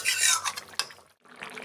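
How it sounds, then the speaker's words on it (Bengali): Fried rohu fish stirred with beans, radish and potato in a thin curry, giving brief scraping and clinking of a utensil against the pan, with a sharp knock partway through and a short pause. "দিয়ে ভালোভাবে ছিম মূলো আর আলুর সঙ্গে মাছগুলো আমি মিশিয়ে"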